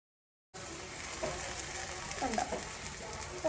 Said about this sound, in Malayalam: സെയിം പാനിലേക്ക് തന്നെ ഞാൻ സവാള ഇട്ടിട്ടുണ്ട്. ഇഞ്ചി വെളുത്തുള്ളി പേസ്റ്റ് അടുത്തായിട്ട് ഇട്ടിട്ടുണ്ട്.